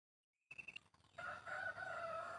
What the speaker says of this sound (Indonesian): Masih bunyi-bunyi ayam teman-teman, karena masih pagi.